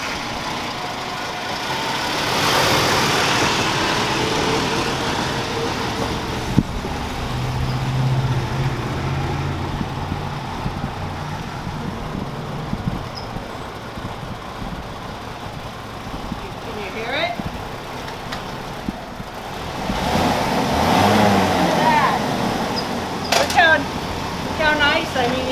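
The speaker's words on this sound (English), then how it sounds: "once I got it running, it runs great" A classic Ford Mustang, revived after decades of sitting, idles and rolls forward with a low steady engine rumble, while people talk nearby.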